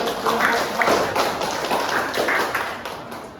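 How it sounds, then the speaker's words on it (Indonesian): A classroom full of students claps, a dense burst of applause with some voices mixed in. "berikan tepuk tangan"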